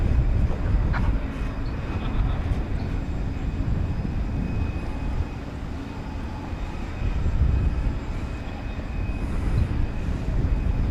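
Eva Air Boeing 787 Dreamliner jet, Flight 49 bound for Taipei, rumbling at DFW Airport at night, a broad low roar that swells and eases in waves, fairly distant, no voices.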